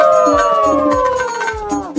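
A cartoon pack of foxes calling together, with long wavering howls that slide downward in layered voices, loud and close, over an unbroken stretch with no gaps.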